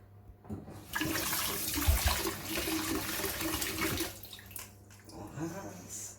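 Water pours steadily from a tap for a few seconds while rinsing hair dye, a loud rushing splash that starts abruptly and cuts off, with some movement and handling noise around it.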